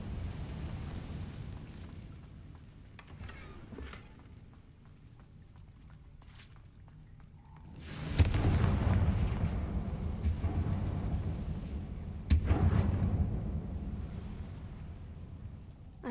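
Fiery blasts from the Confringo spell in a Harry Potter video game, two sudden booming explosions several seconds apart, each followed by a lingering roar over a low rumbling background.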